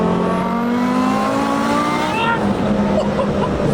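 A 1000 hp Audi S2 accelerates hard, its engine loud and close, climbing steeply in pitch through the gear before a brief dip at a shift and a renewed rise.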